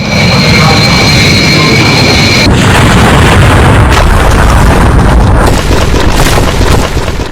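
A loud, sustained roar and rumble of an airplane crash explosion in a news animation, with a plane slamming into a building after takeoff; a high engine whine cuts off into a dense, continuous blast.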